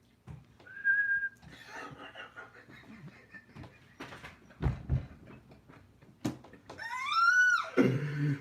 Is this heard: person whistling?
yes